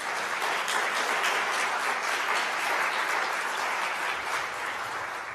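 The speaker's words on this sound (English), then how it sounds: "Let's give the Dean a round of applause." An audience at a university awards ceremony for international education applauds the Dean, giving dense, even clapping that stays loud and unbroken throughout, with no voices over it.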